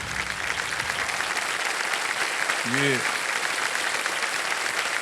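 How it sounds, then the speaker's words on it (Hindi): A studio audience on Kaun Banega Crorepati applauds steadily, a dense wash of clapping that fills the whole span at even loudness, with a brief spoken syllable and a short vocal sound partway through. "तालियां बज जाए इनके लिए।"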